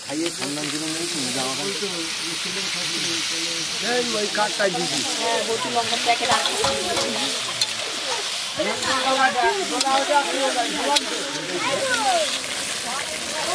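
Meat cooks down with cumin and ground spices in a pan at a home picnic, a continuous hissing sizzle under steady talk from several people.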